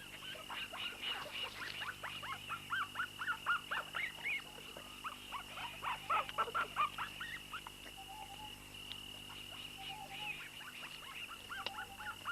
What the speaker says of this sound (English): They fight and squabble over the meat as they begin to establish a seniority among themselves.